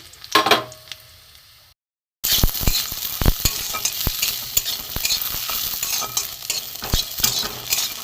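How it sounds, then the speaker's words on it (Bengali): Lentil dumplings (bori) fry in hot oil in a wok, making a close, crackling sizzle with sharp spattering pops and stirring scrapes, broken by a brief silence near the start. "এখানে আমি কড়ায় তেল দিয়ে দিয়েছি এখানে আমার বড়ি বড়ি কটা আমি ভেজে নেব"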